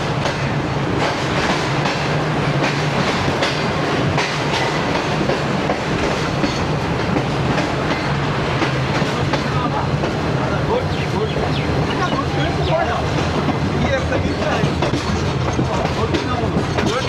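The Shalimar Express runs along the rails from Karachi toward Lahore, a steady loud rumble with continuous clickety-clack of wheels heard from inside a cabin, unbroken throughout.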